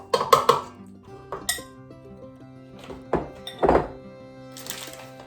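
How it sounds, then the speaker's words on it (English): A cup of flour dropped into a mixer bowl while making gluten-free breadsticks, heard as a handful of hard clinks and thunks of a measuring cup against the bowl, scattered over a few seconds with a quiet hum behind. "I'm going to drop that into the mixer."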